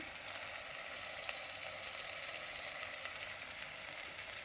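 Mutton pieces fry in a pan for Sunday lunch, giving a steady, dense sizzle that holds evenly from start to finish, close and continuous, with no voices over it.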